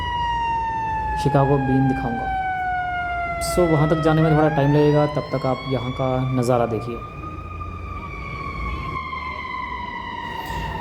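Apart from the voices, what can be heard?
ambulance siren on a Chicago street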